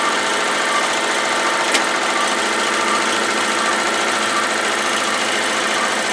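A multi-needle embroidery machine stitching onto green fabric for an in-the-hoop boxed bag, giving a steady, loud mechanical whir with a fast stitching chatter that runs evenly and alone throughout.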